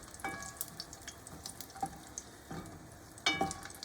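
Garlic frying in oil in a pan for a pizza tomato sauce: a soft steady sizzle with a few brief clinks and stirring scrapes, close and quiet, with no talking.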